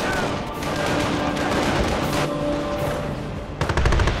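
Bursts of machine-gun and rifle fire rattle almost nonstop in a Company of Heroes battle as German troops attack a base, with rapid volleys layered over a rumbling din that swells sharply near the end.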